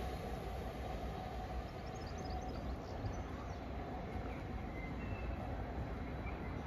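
A train rumbles past nearby at Gatley, a dense continuous roar of wheels and carriages that stays loud from start to finish.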